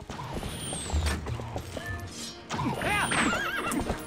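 Horse in Zelda Twilight Princess HD neighing loudly in two whinnies, with clip-clopping hooves and game ambience around it.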